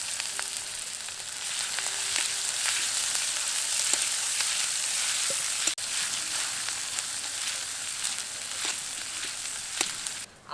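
Grated ginger and garlic fry in hot oil in a wok, giving a steady, loud crackling sizzle with scattered sharp pops. A brief drop in the middle, then the frying carries on alone without voices.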